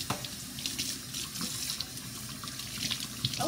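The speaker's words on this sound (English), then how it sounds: "And I wash my knife again." Water runs steadily from a kitchen tap while a knife is rinsed under it, a continuous close splashing stream with small shifts as the blade moves through the flow, no talking.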